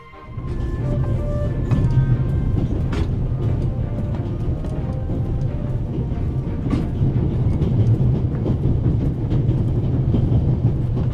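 A train rolls along the tracks in the video game The Raven Remastered, a loud, continuous rumble with faint rhythmic clicks and rattles running throughout, with no talk over it.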